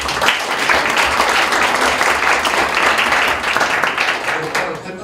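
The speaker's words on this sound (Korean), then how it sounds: "주변에 박수 크게 부탁드립니다." Sustained, loud applause from the crowd at a high school taekwondo poomsae team founding ceremony in Busan, a dense wash of clapping holding steady for about five seconds before easing slightly at the end.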